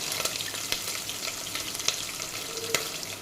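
Sliced onions and chopped green chillies fry in hot oil for an old-style gongura pulusu, giving a dense, even sizzle close by with a few sharper crackles and scrapes as they are stirred, no talking.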